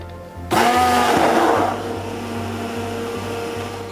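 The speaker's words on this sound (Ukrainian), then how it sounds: "я не могла подумати, що це погружним блендером можна збивати млинці" An electric immersion blender whirs loudly to life for about a second, its pitch dropping as it churns thick pancake batter, then settles into a lower steady hum.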